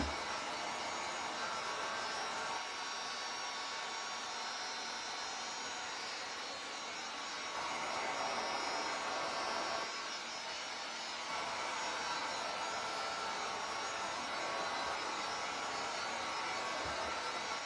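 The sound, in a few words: heat dryer blowing on DIY monogram paint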